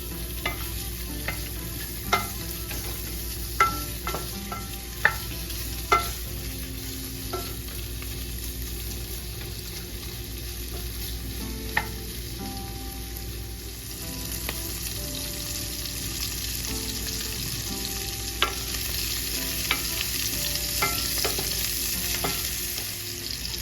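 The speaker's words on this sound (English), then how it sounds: "I'm going to saute the linguiça" Linguiça sausage browns in olive oil in a sauté pan, giving a steady, fairly close sizzle throughout with scattered sharp clicks and taps of a utensil against the pan.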